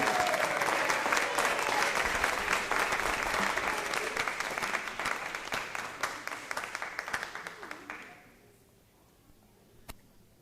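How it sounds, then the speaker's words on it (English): A round of audience applause rings out at a school board of education meeting, dense and steady for about eight seconds before the clapping thins and fades into near silence. "let's give them one last final round of applause"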